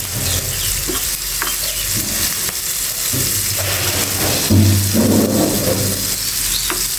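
Green chilies fry in a hot pan while a spatula stirs them, producing a loud, close sizzle with repeated scraping strokes and bursts of crackling.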